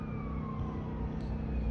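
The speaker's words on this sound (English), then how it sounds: "There's the sirens." Emergency vehicle sirens wail outside, faint and distant with a slowly gliding tone over a steady low traffic rumble.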